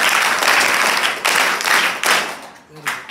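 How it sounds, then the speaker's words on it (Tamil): A seminar audience applauds a teacher at a practice demonstration in a Tamil-speaking classroom, steady clapping from many hands that swells and fades in bursts, with a voice speaking briefly near the end. "கைதட்டுங்க அவங்களுக்கு"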